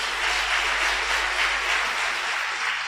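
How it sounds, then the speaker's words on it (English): A crowd at a 2024 matric results announcement for inmates applauds the graduates, a steady, even wash of clapping heard from a distance with no voices. "Let's give them a round of applause"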